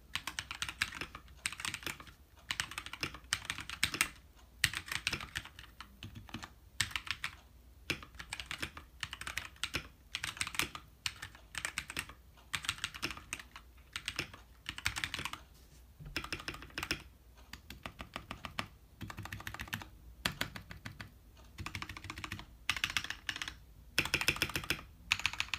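A modded Redragon K617 Fizz mechanical keyboard being typed on in quick irregular bursts of crisp clicky keystrokes with short pauses, close and fairly quiet, no talking.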